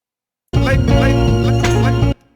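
A remade record scratch effect in a beat plays as a short, dense burst of about one and a half seconds, loud and close, then cuts off abruptly.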